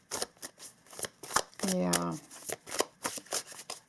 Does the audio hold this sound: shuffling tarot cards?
yes